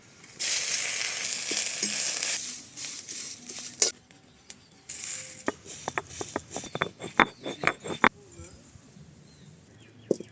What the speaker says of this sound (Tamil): சுத்தம் பண்ண கருவேப்பிலை தலையை வறுத்துக்கலாம்